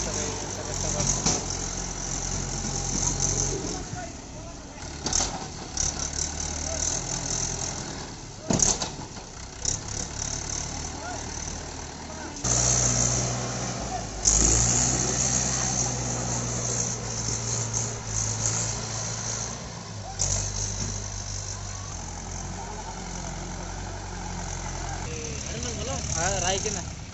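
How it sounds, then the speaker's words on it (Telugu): A Mahindra 475 DI tractor engine idles through unloading, a steady low rumble with occasional thumps and clanks of the work and several people talking over it. "ఈ ట్రాక్టర్ ఇంతసేపు అవుతుంది అన్లోడ్ చేయడానికి"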